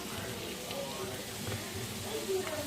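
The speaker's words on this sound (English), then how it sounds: "fry this yam for a couple of minutes until it's brown in color" Steady oil sizzle and crackle from yam frying in a pan, continuous and moderately close, with faint clinks now and then.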